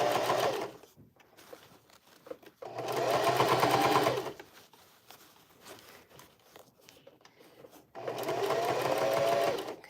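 A sewing machine stitches a bucket hat in three separate bursts of steady whirring, separated by quieter pauses filled with faint handling of fabric.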